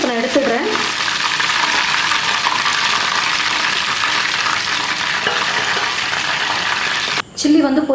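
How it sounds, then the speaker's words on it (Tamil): Chicken pieces deep frying in hot oil in a kadai, giving a steady, loud, close bubbling sizzle that carries on throughout before briefly cutting out near the end. "இப்போ சிக்கனை எண்ணெயில் போட்டு பொரிச்சு எடுத்துடுறேன்."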